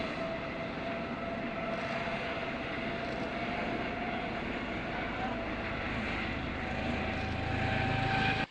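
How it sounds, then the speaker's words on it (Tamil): An ultralight emergency rescue helicopter flies at an outdoor military display, its engine and rotors making a loud, continuous droning roar that holds steady throughout and swells slightly at the end, with no talking. "அவசர கால மீட்பு பணிகளுக்காகவே இந்த ஹெலிகாப்டர் பிரத்யேகமாக தயாரிக்கப்பட்டுள்ளது"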